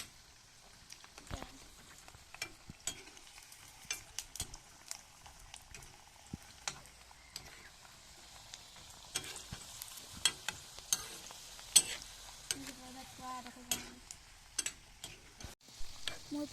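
Pitha frying in hot oil in a small wok, a steady soft sizzle broken by scattered clicks and taps of a utensil across the whole stretch, fairly quiet and close.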